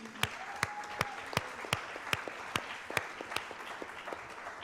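A small audience at a youth ministry panel claps, sparse and uneven with distinct individual hand claps standing out, moderately close and fading.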